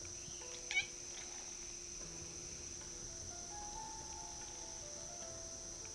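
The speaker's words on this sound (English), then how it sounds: "Did you just hear my cat? He was like, beep." A pet cat gives a short, faint meow once near the start, a brief high chirp over a quiet room with a constant soft hum and low game background sound.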